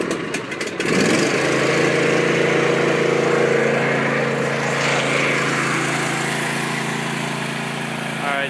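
A John Deere Z235 zero-turn riding lawn mower cranks briefly, then its engine catches and settles into a loud, steady running drone with a constant mechanical hum, close by, no voices.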